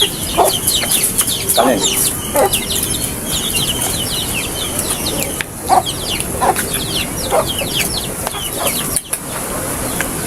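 Backyard chickens cluck and a rooster calls close by, with repeated short clucks and some wing flapping scattered throughout, while a person speaks briefly over the birds.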